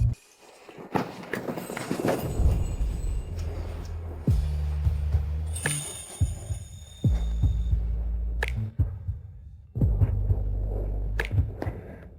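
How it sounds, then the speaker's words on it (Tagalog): A fast, heavy heartbeat thumps in a steady repeating rhythm, deep and close, with a low hum between the beats and no talk over it. "ang bilis ng tibok ng puso mo"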